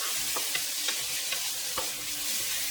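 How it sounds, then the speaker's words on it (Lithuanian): Thin turkey slices fry in a pan with a dense, even hiss of sizzling oil close by, punctuated by a few faint clicks of a utensil. "Kalakutiena šitą taip planai supjausta, jinai ganėtinai greitai kepa"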